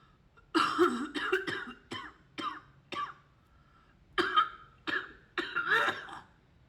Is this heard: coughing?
yes